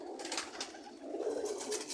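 Pigeon coos from a caught-and-kept homing pigeon at a home loft, soft and fairly near, a low murmuring call repeating over an airy background with no talking.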